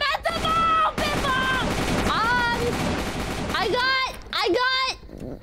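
Rapid gunfire crackles in a chaotic video game, the shots dense and continuous while a high, animated voice talks over them.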